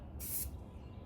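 Spray paint can hissing camouflage paint onto an AR rifle, a single short burst of about a quarter second, close and fairly loud, surrounded by low room rumble.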